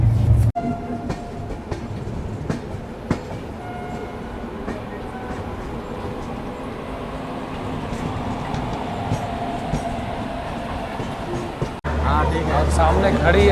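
Duronto Express train running on rails, a steady loud rumble of wheels with faint rhythmic clicks throughout, ending in a brief jolt and louder roar; voices can be heard over the rolling noise.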